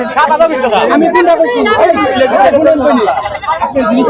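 A goat at a livestock market bleats repeatedly and close by, its wavering cries overlapping with people talking nearby.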